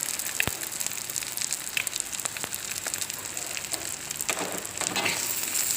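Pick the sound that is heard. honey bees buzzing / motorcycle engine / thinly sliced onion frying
thinly sliced onion frying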